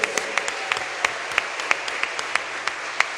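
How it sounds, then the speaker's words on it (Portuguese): A congregation at a church service applauds in a dense, continuous wash of clapping, with a few sharper claps standing out in a loose repeating beat at moderate loudness. "Uma salva de palmas para Jesus"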